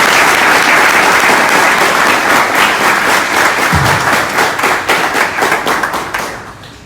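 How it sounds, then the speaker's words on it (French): An audience applauds steadily at a speaking event honoring a guest, dense clapping that holds strong before thinning into scattered claps and fading out at the end. "que je vous demande d'applaudir"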